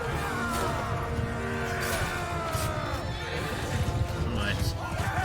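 Horses whinny and hooves clatter amid a chaotic Mount & Blade 2: Bannerlord battle, with neighs rising over a dense bed of combat noise and speech.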